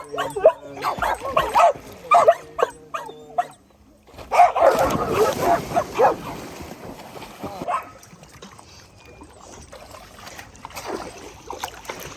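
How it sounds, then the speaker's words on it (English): A dog barks repeatedly in short, close bursts mixed with higher yips, then quiets down to occasional faint whimpers. "Why are you barking at me?"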